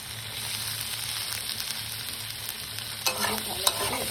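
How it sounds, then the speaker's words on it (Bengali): Onions and capsicum being stir-fried in a pan, a steady close sizzle with continuous stirring and scraping throughout and a couple of sharper utensil knocks toward the end. "ভালো করে এটাকে ফ্রাই করতে হবে।"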